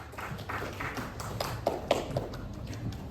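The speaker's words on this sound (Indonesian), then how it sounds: "Sekali lagi mari kita berikan tepuk tangan yang meriah oleh Bapak Ibu penyaji" Audience applause for presenters at a school teaching-showcase event in Jayawijaya, Papua: a steady wash of many hands clapping at moderate distance, continuous for the whole stretch with a few sharper individual claps standing out.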